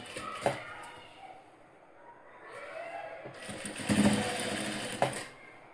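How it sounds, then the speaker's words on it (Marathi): Sewing machine topstitching a blouse, running in short bursts of rapid mechanical stitching with pauses between, close and fairly quiet. "परफेक्ट एका लाईनीमध्ये दाब टीप द्यायची आहे."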